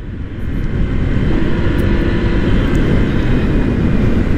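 A Honda PCX 160 scooter with an upgraded pulley set, its engine droning at high speed with a steady, loud, roaring whine and heavy wind rush.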